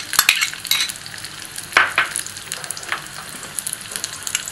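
Onion frying in oil for pav bhaji, a steady sizzle with several sharp scraping stirs of a spatula against the pan, close and fairly loud, no voices.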